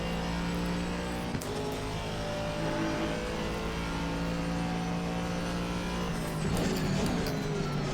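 Aston Martin V8 GT race car in Assetto Corsa Competizione at Silverstone, engine droning at a steady whirr with sustained harmonic tones, briefly dipping and rising in pitch near the end, loud and continuous with no talk.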